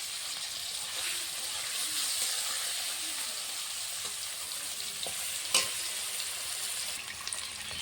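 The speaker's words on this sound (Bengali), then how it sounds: "হালকা করে ভেজে নেবো, আমি বেশি ভাজবো না পনিরটা" Paneer fries lightly in hot oil with a steady, close sizzle and hiss, broken by a few small clicks of stirring.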